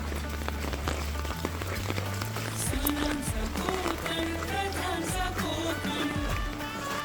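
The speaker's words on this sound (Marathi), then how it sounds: "कंटिन्यू पाऊस आहे." Steady rain patters continuously on surfaces, a dense even hiss with faint tonal sounds and movement mixed in, no clear voices.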